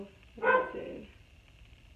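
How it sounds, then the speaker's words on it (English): A single dog bark rings out nearby, loud and sharp, then trails off, with faint room noise behind it. "he barks when he hears a song or someone near"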